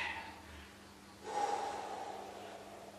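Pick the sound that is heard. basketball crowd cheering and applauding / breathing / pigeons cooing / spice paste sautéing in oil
breathing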